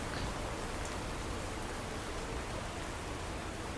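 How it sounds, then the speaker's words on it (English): Steady, dense rainfall in the video game After the Wane, a constant even hiss with no talking. "Oh, that rain noise is so pretty."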